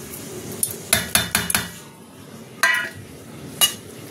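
A spoon clinks and scrapes against a bowl in quick irregular bursts while ingredients for steamed prawns are mixed, several sharp metallic taps followed by pauses, close and clear.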